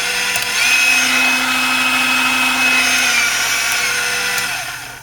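An Aldi Ambiano cordless mixer with a replacement motor runs with a steady electric whir and high whine, close and fairly loud, holding constant for several seconds before spinning down at the end.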